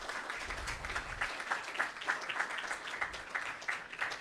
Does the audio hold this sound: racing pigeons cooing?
no